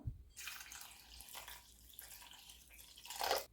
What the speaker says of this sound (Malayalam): ഇനി ഇതിലേക്ക് ഒരു കപ്പ് വെള്ളം നമുക്ക് ചേർത്ത് കൊടുക്കാം